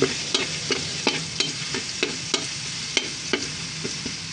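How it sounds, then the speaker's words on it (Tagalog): Minced garlic sautés in hot oil for pork pochero, a steady close sizzle broken by regular scrapes and taps of a spatula stirring the pan, with no talk. "Niluluto po natin maigi ang ating bawang para mabango ang ating niluluto."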